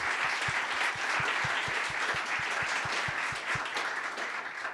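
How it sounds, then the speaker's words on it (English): Sustained applause from an academic awards session audience, many hands clapping together steadily, with a rhythmic thump of individual claps near the microphone. "So big round of applause for all the reviewers."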